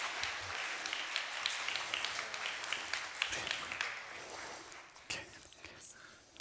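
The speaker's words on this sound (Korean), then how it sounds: "우리 큰 박수로 우리 축하해 주시길 바랍니다." A church congregation applauds in celebration during a Sunday worship service, a steady wash of clapping spread across the room at moderate distance that holds for several seconds before thinning into a few scattered claps.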